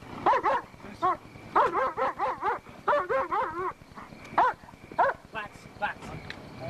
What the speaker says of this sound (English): Deputy Paul Thompson arrived on the scene with his dog Ando.